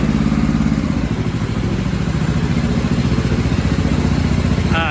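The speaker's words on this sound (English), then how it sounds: "Love those little mufflers for Gravely's. They're so quiet." A Gravely tractor engine fitted with a small muffler runs steadily nearby at an even idle, a low thrumming chug with a faint rattle that holds at constant loudness throughout.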